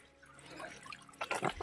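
Water runs from a broken pipe on a village water tank, a soft trickling that swells into louder splashing gushes near the end, with no voices.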